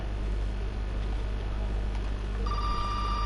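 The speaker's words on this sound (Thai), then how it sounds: "เอ้าโทรศัพท์มา" A telephone rings in the horror video game Resident Evil 7, an electronic ring tone that starts partway through over a low, droning ambient background, with no voices.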